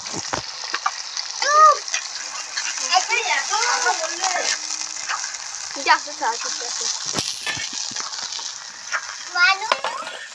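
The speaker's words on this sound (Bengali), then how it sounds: "পেঁয়াজটা ভাজছে" Onions frying in a pan on an outdoor stove at a winter picnic, a soft continuous sizzle running beneath frequent chatter from children and adults.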